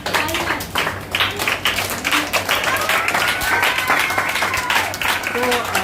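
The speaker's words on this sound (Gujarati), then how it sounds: "આ બાળકો જે તાળી વગાડી રહ્યા છે" Children at a school clap together in steady, continuous applause throughout, with a voice speaking over the clapping.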